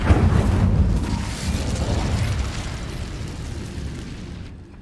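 Incendio fire spell from Hogwarts Legacy, going off as a loud whooshing burst that rumbles, then trails away into a fading crackle over a few seconds.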